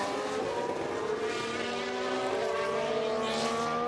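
F1 race cars in the F1 Manager 23 video game at Monza scream past at speed, a layered high engine whine rising and sweeping as several cars run close together in slipstream; no speech.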